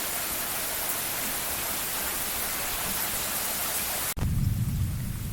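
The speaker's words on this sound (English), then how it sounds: "Avery, tell the rain that it's doing it wrong and that it's supposed to be in Seattle right now." Steady rain falling outdoors, a dense hiss of drops that cuts off abruptly near the end and gives way to a rumbling, lower-pitched roar of rain.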